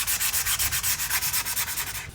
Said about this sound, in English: The sandpaper was not taking off the desired amount